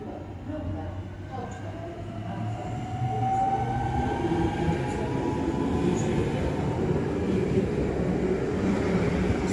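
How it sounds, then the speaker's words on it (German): A DB Fernverkehr ICE 3 (class 403) high-speed double unit rolls past nearby with a steady rumble of wheels on rails, rising slightly in loudness, with faint electric whine and distant voices. "müsste auch eine Doppeleinheit Baureihe 403 ICE 3 von DB Fernverkehr sein"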